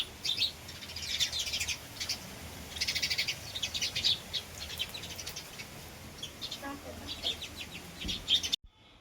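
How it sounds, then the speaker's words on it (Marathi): Faint birds chirp in scattered bursts outdoors in a village on a windy day, over a soft steady background hiss. "वारं पण खूप सुटलं होतं त्यात पक्ष्यांचा आवाज"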